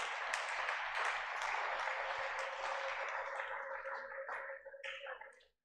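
A congregation applauds during a church service, a steady dense wash of clapping that runs for several seconds before tapering off, with a faint sustained tone beneath it.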